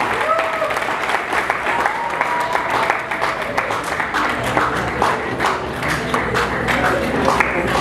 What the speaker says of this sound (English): a good clap as we have this